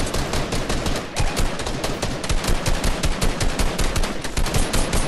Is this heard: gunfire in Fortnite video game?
yes